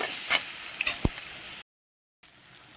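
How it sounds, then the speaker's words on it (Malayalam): Onion sautéing in a pan with salt and turmeric gives a close, steady sizzle with a few sharp utensil taps as it is stirred, then cuts to silence before a fainter sizzle returns. "സവാള വേഗം വഴന്ന് കിട്ടാൻ വേണ്ടിയിട്ട് ഞാൻ അതിലേക്ക് ആവശ്യത്തിനുള്ള ഉപ്പും മഞ്ഞൾപ്പൊടിയും ചേർത്ത് കൊടുത്തു"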